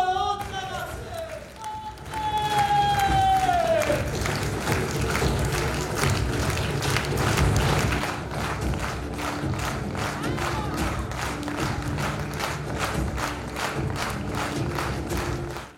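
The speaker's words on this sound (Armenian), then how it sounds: "Դերասանի ամեն մի հայրենասիրական մղում ուղեկցվում էր ծափահարություններով" A theatre audience applauds at the end of an Armmono theatre performance at a festival in Alaverdi. After a brief voice, the clapping becomes steady and rhythmic, sounding like a crowd clapping in unison.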